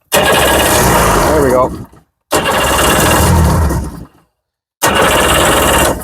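A 2003 Sea-Doo GTI's engine fires after being choked, giving loud sputtering bursts that cut out, then a second and third attempt roar up; someone speaks briefly between the tries.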